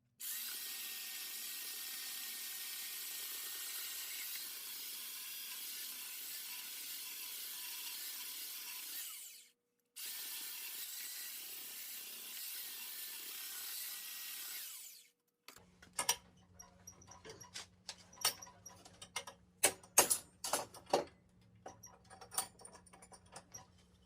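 A power sander with 80-grit paper grinds steadily and harshly for about fifteen seconds with one short pause, followed by scattered clicks and taps.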